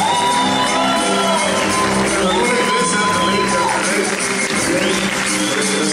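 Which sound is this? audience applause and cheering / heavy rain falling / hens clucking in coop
audience applause and cheering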